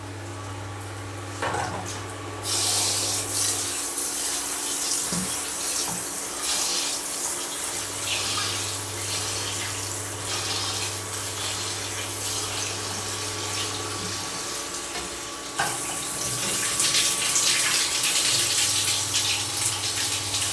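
Rice being rinsed under a running kitchen tap, a steady close splash of flowing water that continues throughout, with brief shifts as the grains are swirled and handled in the stream; no one speaks.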